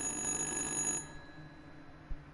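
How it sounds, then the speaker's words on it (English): A telephone rings in the horror video game Little Hope, a bright electronic ring that sounds for about a second and then stops, leaving a quiet background with a soft thump. "Oh, it's a phone."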